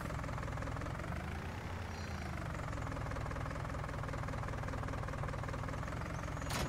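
A tractor engine idles steadily in Farming Simulator 19, a constant low rumbling drone with a faint knocking pulse that holds at an even level throughout with no talking.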